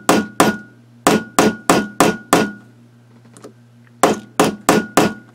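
A small hand hammer, a treasured gift, strikes sharply over and over in quick bursts of two to five blows with brief pauses between, each hit a crisp, close metallic knock.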